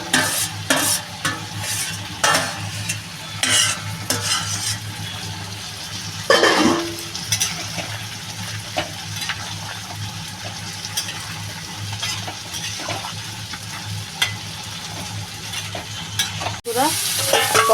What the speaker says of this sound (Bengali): আমি এবার এই যে ভাজা মাথাগুলো রয়েছে মাথাগুলো ঢেলে দেবো।